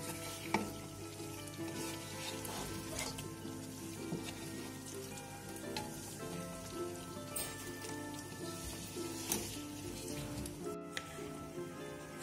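Chicken pieces frying in oil in a pan, sprinkled with paprika for a sauce: a continuous quiet sizzle and crackle with scattered pops and occasional clinks of a utensil.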